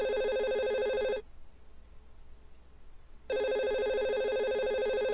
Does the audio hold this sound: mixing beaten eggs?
no